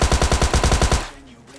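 Rapid automatic gunfire in a shooting video game, about ten quick evenly spaced loud shots in a burst lasting about a second, then quiet.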